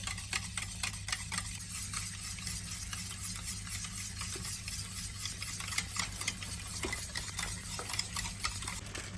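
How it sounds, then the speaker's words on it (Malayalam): Sugar mixed into beaten egg and milk for Bombay toast, a steady run of quick light clicks and taps against a bowl over a low constant hum, with no talk. "കടഞ്ഞ മുട്ട പാല് ഇതിലേക്ക് കുറച്ച് ഷുഗർ മിക്സ് ചെയ്യുവാണ്."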